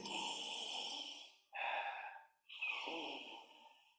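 After rosemary essential oil is rubbed in the palm, a person takes three deep breaths close up, each a long airy inhale or exhale followed by a short pause, heard alone and clearly.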